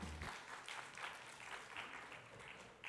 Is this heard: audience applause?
yes